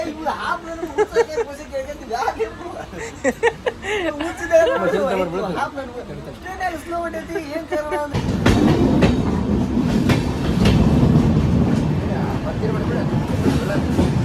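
A passenger train on a first-time journey to Goa runs along the rails, a steady broadband rumble and rattle that swells louder partway through, with people chatting over it earlier on.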